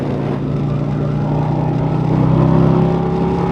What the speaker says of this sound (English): I'm riding a 2024 Harley-Davidson Road Glide